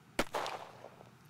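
A single sharp gunshot in The Coffin of Andy and Leyley snaps out close and alone, followed by a short fading crackle and echo.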